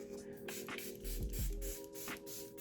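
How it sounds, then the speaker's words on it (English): Body spray hisses in a few short bursts close by, quiet and dry, with brief pauses between pumps. "Last but not least, we're going to spray."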